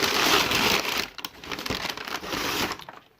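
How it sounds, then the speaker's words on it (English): Paper packing crinkles and rustles as it is pulled from a box of parts, one loud crumpling burst and then quieter bursts of rustling close by. "Pull some more paper out."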